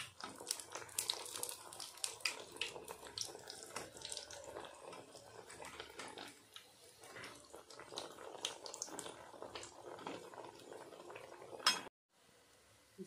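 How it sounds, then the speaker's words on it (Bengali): Spicy egg and rice flour batter pitha frying in a pan at medium heat, giving a steady crackling sizzle with occasional clinks of utensils, loud and close, ending abruptly. "ঝাল পিঠাটা ভাজা হয়ে গেছে"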